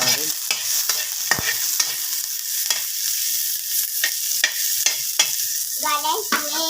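Garlic and onion frying in a pan for adobong kangkong, a crackling sizzle broken by repeated sharp scraping stirs of a utensil, with brief speech near the end.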